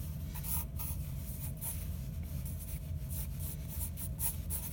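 A pencil scratches out a quick basic sketch, making soft repeated strokes close up over a low steady background hum, with no talking.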